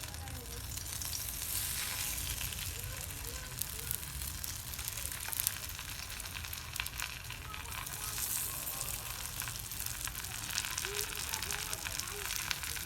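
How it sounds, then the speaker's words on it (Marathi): Chamkura (taro) leaves sizzle steadily in hot oil on a flat iron tawa, a dense, even crackling hiss that holds at constant loudness throughout, close up and with no talking over it. "चिमकुरीचे पानं आता तळून घ्यायचे तव्यावर हे बघा असा तवा ठेवलाय आणि त्याच्यावर तेल टाकले"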